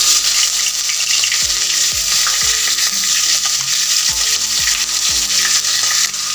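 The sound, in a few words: whole cumin seeds frying in hot oil in a pan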